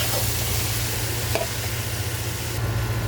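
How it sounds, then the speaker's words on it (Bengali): Boiled lentils stirred in a hot pan, a steady close sizzle with a low hum beneath and a faint scrape, brief and without talking. "ডালগুলা সিদ্ধ করে রাখছি, এখানে একটু নাড়িয়ে নিব।"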